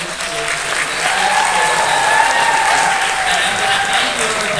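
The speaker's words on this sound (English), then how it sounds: "could we have a round of applause, please, for Jimmy Bunch" Sustained audience applause fills a concert hall at a UK–India cultural season event, a dense, steady wash of clapping from a large crowd that holds loud and even throughout with no voices over it.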